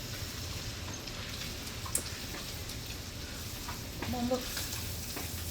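A pan of stir fry with eggs sizzles steadily at low volume, a soft continuous hiss with small pops. A brief voice is heard near the end.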